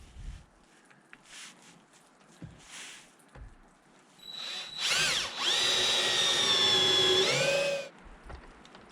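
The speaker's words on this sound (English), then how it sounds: "So I do a tap hole here." A power drill bores a tap hole in a reclaimed cabin plank to fix a table leg base, one steady high whine lasting about four seconds, close and loud, after quiet shuffling and handling noises.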